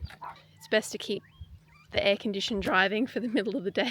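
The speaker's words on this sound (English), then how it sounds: "You can hear the dog barking." A small dog barks and yips a few times from inside a van in the Australian outback, partly heard under a man's nearby speech.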